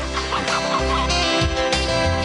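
Free-range laying hens roaming without fences, clucking steadily for a couple of seconds amid a dense, busy mix of other sound.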